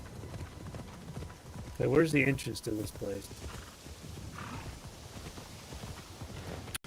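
Horse hooves clip-clop in a video game, Assassin's Creed Shadows, a faint steady gait under a man's speech, with a brief louder burst of game sounds partway through.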